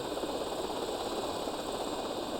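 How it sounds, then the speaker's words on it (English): Helicopter rotor and engine noise from the video game GTA Vice City, a constant loud whirring drone with no breaks, with no speech over it. "I don't think my helicopter's gotten hit yet."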